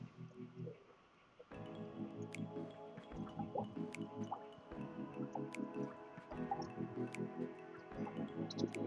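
Yellow sponge rubbing and squeaking against wet aquarium glass, faint close squelches and drips in irregular strokes over several seconds.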